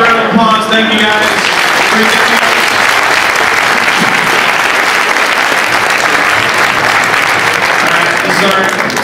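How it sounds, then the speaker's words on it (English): A loud, sustained round of applause fills a tech meetup hall, dense crowd clapping that holds steady for the whole stretch, with a voice speaking briefly over it at the start. "Let's get a round of applause."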